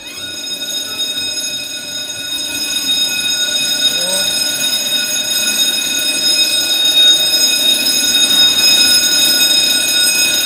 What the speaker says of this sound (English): So I think it was just some hoodlums pulling the fire alarm.